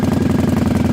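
A motorcycle engine idles close by, a steady loud low chugging with an even, rapid pulse throughout and no voices.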